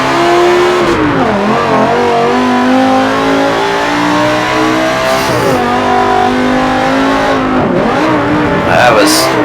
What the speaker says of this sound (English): That was a lot harder braking than I thought I needed to.